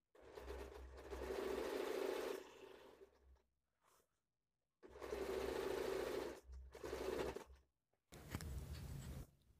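Electric sewing machine stitching a semi-Patiala salwar seam, running in three long bursts of rapid, even whirring separated by short pauses and quiet handling of the cloth.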